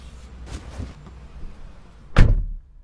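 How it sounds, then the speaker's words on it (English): A car passenger door bursts open with a single loud, close thump and rattle, following a few softer, indistinct shuffling sounds. "The passenger door flew open."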